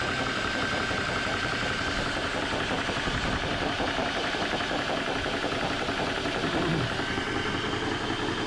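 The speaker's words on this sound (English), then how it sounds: "the compressor overall is pretty quiet running" A Benjamin Traveler Gen 2 HPA airgun compressor runs up to pressure with a steady, close, rumbling mechanical drone and rapid knocking pulses, continuous and even throughout.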